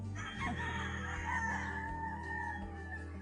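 A rooster crows on a gamefowl farm, one drawn-out call rising and holding over a steady low hum of farm background, fairly close and clear with no talk.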